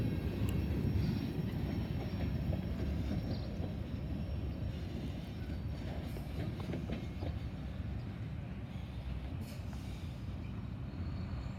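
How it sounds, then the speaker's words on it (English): A single EMD SD40-2 diesel locomotive running light at Bellevue, with a steady, loud low-end engine rumble and faint rail clatter continuing throughout, no voices. "had a single EMD an SD40-2 loco. He's running light."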